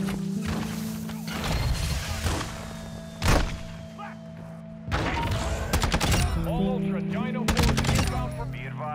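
Gunfire in the Call of Duty DMZ game: scattered bursts of automatic fire and single heavy shots, some close and punchy, others sharper and more distant, with thuds between.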